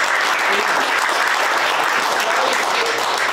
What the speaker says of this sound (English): Can we give you all a round of applause for doing these things and working for us?